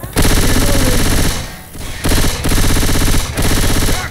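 Loud, sustained automatic gunfire from the co-op zombie shooter Left 4 Dead 2, firing in dense rapid bursts with a brief lull near the middle before the shooting resumes.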